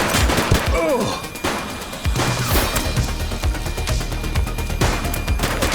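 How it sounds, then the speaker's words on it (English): Gunfire from the LCPDFR police mod for a video game: loud, close bursts of rapid shots and sharp cracks, some clustered in quick volleys, followed by continued popping fire over a rumbling background. "Shots fired!"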